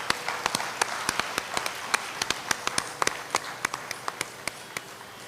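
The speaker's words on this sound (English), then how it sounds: "Please give our talented orchestra another round of applause." Audience applause after an orchestra's performance at a Rangapravesam dance debut, heard as a scattered stream of individual sharp claps, moderately loud and fairly close, with no voices over it.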